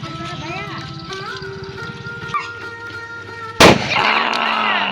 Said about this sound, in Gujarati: આપણે ફટાકડો ફોડવાનો છે હાલો ફટાકડો ફોડ